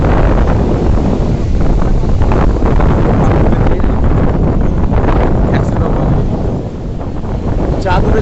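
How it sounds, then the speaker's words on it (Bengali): Strong wind on the beach at Digha buffets the microphone in a loud, constant roar that dominates the whole stretch, dipping only slightly near the end. "প্রচুর হাওয়া দিচ্ছে"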